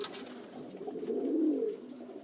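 A pigeon among Basrawi, Turkish and Uzbek breeds gives a soft, rolling coo that swells in the middle, close by over a quiet background.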